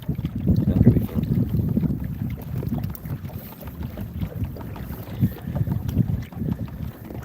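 Wind buffets the microphone in gusty low rumbles while fishing from a kayak on open water. The rushing continues steadily for several seconds, and no one speaks.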